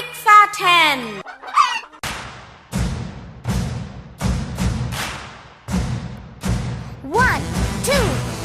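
A cartoonish hen clucks and a rooster crows amid a series of sharp, evenly spaced thumps, with brief squeaky animal calls at the start and end of the sequence.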